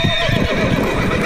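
A horse whinnies loudly alongside clip-clopping hooves, a dense sound effect filling the short clip with no talk over it.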